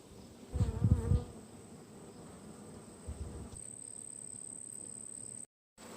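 Honey bees buzz around hives with a steady, close hum and a louder burst of wingbeats near one spot, then a continuous drone that cuts out briefly near the end.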